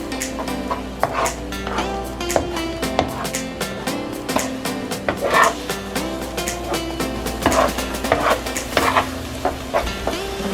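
Food is stirred continuously in a frying pan, with a constant sizzle under rapid, rhythmic clicks and scrapes of the utensil against the pan, close and fairly loud.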